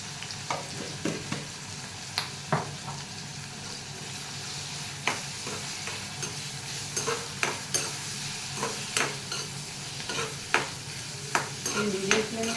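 Yellow cucumber pieces frying with turmeric over a medium flame, a low, even sizzle under frequent light stirring scrapes and taps, close and fairly quiet with no talk.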